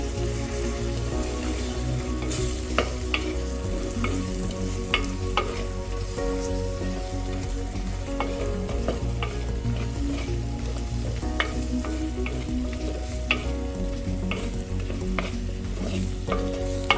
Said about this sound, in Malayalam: തക്കാളി നമുക്ക് ഇതിലേക്ക് ഇട്ടിട്ടൊന്ന് ഇളക്കി കൊടുക്കാം